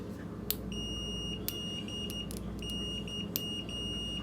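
A Fluke multimeter's continuity test gives a steady high-pitched electronic tone that sounds in repeated beeps with short gaps, punctuated by faint clicks of the probes, over a low background hum.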